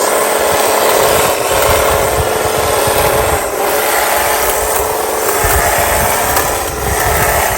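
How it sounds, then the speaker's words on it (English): An electric hedge trimmer cuts through a large English elm with a loud, continuous, buzzing drone that dips slightly now and then as it bites into the branches. "use the electric hedge trimmer to trim it"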